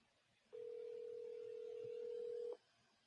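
A telephone tone sounds as a call is placed, one steady unbroken tone lasting about two seconds, faint and alone against low background hiss.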